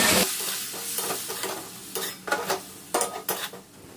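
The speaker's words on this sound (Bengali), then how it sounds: "এবার ভালো করে এটা কষিয়ে নেব।" Spice paste for a Bengali rui fish curry with patol, splashed with a little water, is stirred in a pan; a spatula scrapes and knocks the metal in repeated strokes over a soft, steady sizzle.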